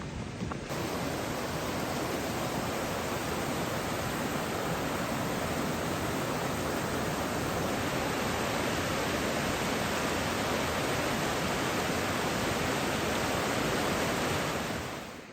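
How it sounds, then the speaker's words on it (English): Rushing river water on Dartmoor pours in a dense, constant roar, loud and close, without any voices. "Just walking down the side of this river, listening to this water rushing by."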